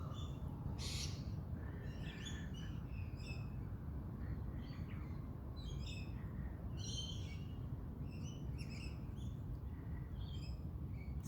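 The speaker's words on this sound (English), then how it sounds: "You can hear the birds." Birds chirping and calling outdoors on a cool winter day, with repeated short calls from several directions above a steady low rumble of background noise throughout.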